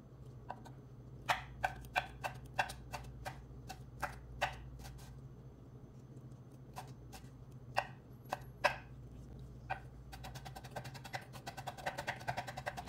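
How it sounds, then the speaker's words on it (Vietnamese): A knife minces chili peppers on a cutting board for a fish sauce dip, sharp quick chopping taps in uneven bursts that speed into a rapid run near the end, close and without talk. "làm trong cái món nước mắm này thì mình băm thêm ớt"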